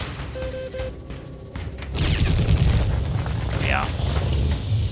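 A weapon firing in the video game Phoenix Point: a quiet interface stretch with a few tones, then a heavy booming blast that rolls into a sustained loud rumbling roar lasting several seconds.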